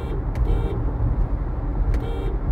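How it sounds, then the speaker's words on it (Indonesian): Two short double honks of a 2022 Volkswagen T-Cross's Japanese-made horn, a quick toot followed by a longer blast, repeated twice over a low engine rumble. "Tapi mobil ini nggak, mobil ini klaksonnya seperti ini."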